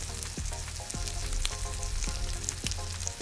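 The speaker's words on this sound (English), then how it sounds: "It's gonna be basically like a little stir fry, salmon stir fry with rice." Salmon stir-fry with rice cooks in a pan, a constant dense sizzle with low rhythmic clatter running underneath, close and steady, no talk.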